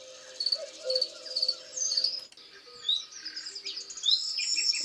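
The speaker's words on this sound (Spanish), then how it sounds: "pero ya hay algunos grillos." Crickets chirp at nightfall in a steady, high trilling chorus, joined by scattered bird calls and chirps nearby, with no voices present.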